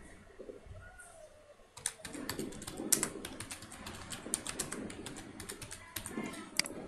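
Quick bursts of typing on a computer keyboard start after a quiet lead-in and continue in an uneven clatter of close keystrokes, with faint bird cooing in the background.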